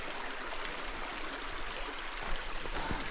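A creek runs past a bush camp on the Hume and Hovell Track, a steady close rushing murmur of flowing water without a break and with no voices.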